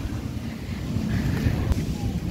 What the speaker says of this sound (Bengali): ফাইনালি একটা ঝড় উঠেছে।